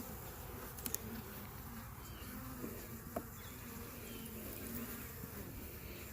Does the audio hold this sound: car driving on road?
no